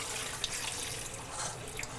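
Liquid, likely buttermilk, pours from a butter churn into a strainer in a home kitchen: a steady, close splashing trickle that runs the whole time with no voices over it.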